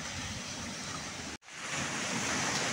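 Sea waves wash onto a beach in Samar, a steady broadband roar of surf that cuts out for an instant midway, then returns slightly louder and continues without voices.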